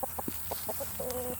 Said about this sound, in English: The chickens have found the garden.